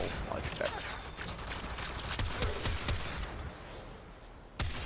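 Astilla shotgun blasts hitting enemies in the video game Warframe, a string of sharp, irregular shots with mechanical clatter in between, ending in one loud isolated blast after a brief quieter stretch.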